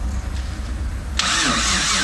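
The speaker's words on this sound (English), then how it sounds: "can't get the stupid thing to crank real well even while jumping it" A Nissan R33 with a built RB25 engine cranks weakly while being jump-started, then catches into a loud, steady run that carries on to the end, close by.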